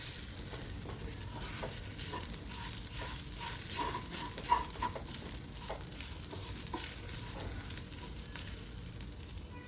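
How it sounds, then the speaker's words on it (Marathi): Dried coconut roasting in a pan while being stirred, giving a steady soft sizzle broken by repeated scraping strokes throughout, close and moderately loud with no talking. "खोबरं इथं असं हे भाजलं गेलं पाहिजे, थोडंसं असं भाजून घ्यायचं"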